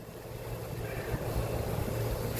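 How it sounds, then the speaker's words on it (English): A plane taking off, heard outdoors from a botanical garden near the water as a steady, broad engine roar that grows slightly stronger, distant but constant, with no one talking. "There's a plane taking off"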